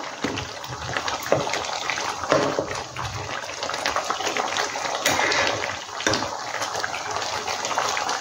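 Lobster malai curry with coconut milk boils in a pot, giving a steady bubbling and hissing simmer close by, with occasional clinks from stirring.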